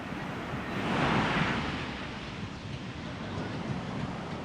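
Ocean waves wash onto the beach at Hard Rock Punta Cana in the Dominican Republic, a broad steady surf roar that swells briefly, mixed with some wind noise and no talk.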